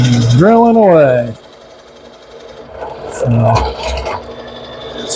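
Hand drill boring into wood in a workshop, a steady whirring grind with a rasping texture that stops and restarts in short bursts, close by and alone after a brief spoken line at the start.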